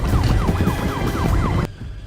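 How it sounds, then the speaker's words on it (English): Police sirens wail in a repeating rising-and-falling pattern over a rumbling background in a movie heist scene, loud and close, cutting off abruptly near the end. "sirens close in, forcing Parker, Grofield, and Zen to abandon the heist and escape"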